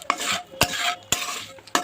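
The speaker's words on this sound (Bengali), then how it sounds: "এবার আমি ওই তেলের মধ্যেই এখানে শুকনো লঙ্কা, জিরে, তেজপাতা আর গোটা গরম মশলা দিয়ে দিলাম।" Whole spices, dry red chilli, cumin seeds and bay leaf hitting hot oil in a pan, with spoon or utensil clinks at regular intervals over a steady bright sizzle; no talking.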